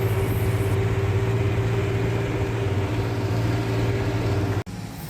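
A diesel tractor engine runs on a highway between Virudhachalam and Jayankondam, a steady droning hum with constant low tones that cuts off abruptly near the end.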